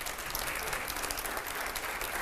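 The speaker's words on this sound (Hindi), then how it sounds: "अब जरा जोरदार तालियां हो जाए अगले सवाल के लिए।" Applause from a studio audience at a Hindi talk show with editors, a dense, even wash of clapping that holds steady throughout the short moment, fairly quiet overall with no voices rising above it.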